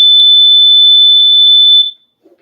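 A home fire alarm blares a loud, steady, shrill electronic tone for about two seconds, then cuts off abruptly into near silence with a faint trace of something afterward.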